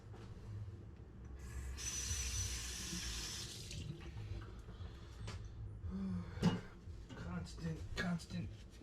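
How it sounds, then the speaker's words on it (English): A tap runs in a kitchen sink for about two seconds while hands are washed, a faint, bright splashing rush, followed by handling clatter and rubbing, with someone speaking throughout. "Constant washing of the hands."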